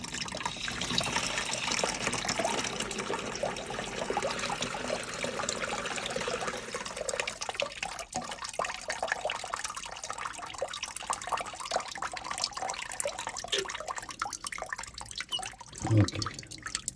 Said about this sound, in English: Open water.